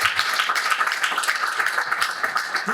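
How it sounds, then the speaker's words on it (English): Steady, dense applause from an audience honoring a speaker at a Salvation Army Christmas Kettle event, continuous clapping with no pauses. "we need to give him a big round of applause for this transformation"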